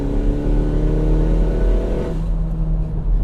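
A 500 hp all-wheel-drive Mini Paceman JCW engine revs hard and close, a loud rising intake roar from the front with a whooshing rush of air, then the note drops back as the throttle eases.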